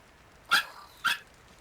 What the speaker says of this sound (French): Ah, on a entendu un petit chien?